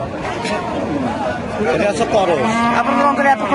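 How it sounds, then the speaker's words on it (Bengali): A Holstein Friesian bull lets out long, low moos, rising and falling, close by, with people chattering in the background at a cattle market in Pabna. "এই গরুটা কি জাতের গরু"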